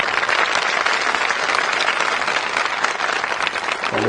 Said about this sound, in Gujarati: એક વખત તાળીઓ આપણા એર ઇન્ડિયાના પાયલોટો માટે વગાડો.